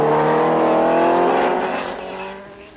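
A Formula One race car engine at the Nürburgring, Graham Hill's car motoring slowly with a loose front wheel, gives a loud, close droning note that holds steady and then fades as it moves away.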